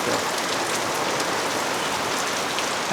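Heavy rain in Chiang Mai, Thailand pours down steadily, a dense, continuous hiss of drops hitting surfaces up close, with no pauses.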